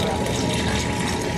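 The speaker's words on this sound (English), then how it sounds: "Now we add 1 1/2 cups of warm water." Warm water poured into a bowl of dry ingredients for dough, a loud, steady, close rush of running water with no break.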